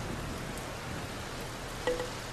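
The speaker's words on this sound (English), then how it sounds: "Ooh, it's raining. It's pouring." Steady rain falls in the video game Tropico 4, a continuous, even hiss of downpour that holds throughout, close and fairly loud, with no voices.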